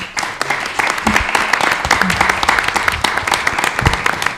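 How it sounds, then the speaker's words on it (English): Applause from an audience at a devotional gathering, dense continuous clapping filling the room for several seconds, with a few voices and low murmurs mixed in beneath it. "I'm going to ask that you all give them your blessings with an applause"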